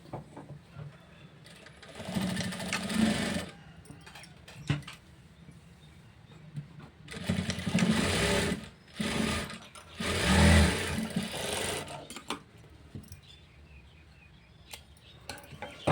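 A sewing machine stitching a blouse runs in several bursts of rapid mechanical whirring, with quieter handling and fabric sounds between runs and no talking.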